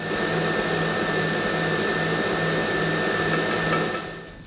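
An electric mixer beats Greek Christmas meringue as sugar goes in, giving a steady, continuous motor whine with a constant hum that fades out at the end.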